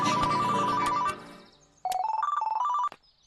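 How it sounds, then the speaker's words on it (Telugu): A phone ringtone plays an electronic melody for an incoming call, a loud tune that breaks off briefly and then repeats, nearby, with no talking. "ప్రభుకి ఫోన్ చేయాలా"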